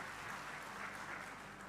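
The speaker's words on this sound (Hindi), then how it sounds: "पूरे मंच के लिए जोरदार ताली बजा दो" Steady, distant applause from a large crowd at an outdoor political rally in Amarwara, with a continuous wash of clapping that stays even throughout.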